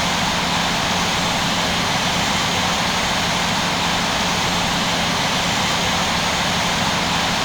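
An Air France Cargo Boeing 777 taxis in the Infinite Flight simulator, its jet engines producing a loud, steady broadband roar with a faint low hum that continues unchanged throughout.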